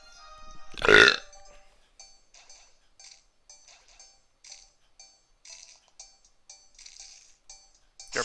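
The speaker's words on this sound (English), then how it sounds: "Did you hear that burp? Did you hear that belch?" One loud, short belch rises at the start, followed by faint, scattered light clinks and chimes from a game in the background.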